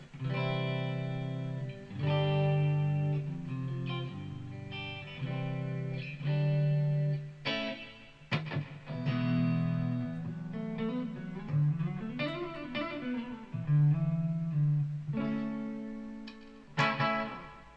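A clean electric guitar plays chords and single notes with a spacious reverb tail run through the effects loop, alone and fairly steady in loudness.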